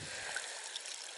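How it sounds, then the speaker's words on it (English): Water trickling over the top of a small structure along a countryside stream, a faint steady wash of flowing water with no voices. "See, there's bits of water coming over the top there."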